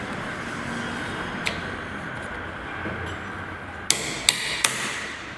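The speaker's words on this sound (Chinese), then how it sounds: "可以用榔头轻轻的敲一下" A hammer taps lightly on a deep well submersible pump part being reassembled: one soft knock, then three sharp metallic taps in quick succession over a quiet hiss.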